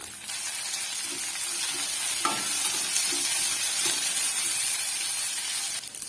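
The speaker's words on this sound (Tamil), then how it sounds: "சேர்த்துட்டு நல்லா வந்து கிளறி கொடுத்துக்கலாம்" Curry leaves and onions sizzle and crackle steadily in a hot frying pan with scraping stirring sounds, continuous throughout at close range.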